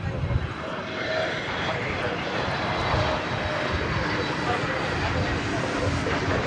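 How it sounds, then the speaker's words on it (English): An American Airlines Airbus A321neo, flight 1946, arriving at DFW produces a steady distant jet engine rumble and roar, while a person talks over it. "We have American Airlines Flight 1946 coming in from San Diego, California."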